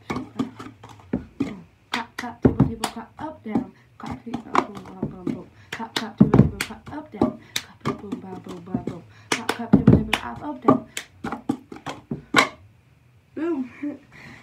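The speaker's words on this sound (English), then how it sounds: "Clap, clap, table, table, clap, up, down, clap, sweep." Hands clap and a plastic cup is tapped and slid on a tabletop in the fast, repeating rhythm of the cup song, the sharp claps and knocks close and crisp under a voice.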